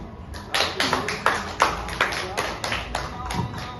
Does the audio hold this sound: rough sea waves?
no